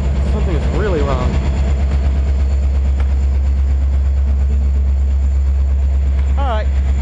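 A Metra MD/W locomotive idles nearby at Elgin with a steady, loud rumble. Voices speak briefly over it near the start and the end.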